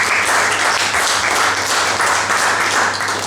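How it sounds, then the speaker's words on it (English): Audience applause at a Commonwealth award presentation, a dense, steady wash of many hands clapping that stays loud and even throughout with no talking. "Firstly, a big round of applause for Bridge."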